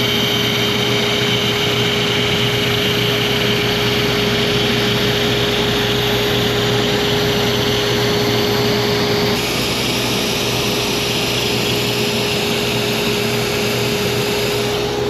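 A ShopBot CNC router cuts 6061 aluminum with a loud, steady machining whine and harsh broadband grind, droning on without pause and shifting slightly in tone partway through.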